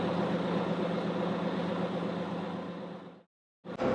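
A sailboat's engine runs steadily at anchor in Greenland, a loud continuous low rumble that cuts out abruptly near the end, then briefly returns.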